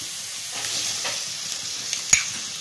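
Onion, ginger-garlic paste and tomato sautéing in a pan for crab pepper masala, a steady soft sizzle with a few faint stirring scrapes and one sharper clink near the end, no voices.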